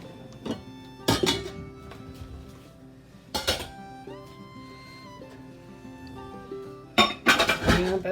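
Dishes and utensils clatter into a kitchen sink during taco night cooking at home, with three loud clanking bursts of plates and cutlery at close range and quieter clinks and rustling between them.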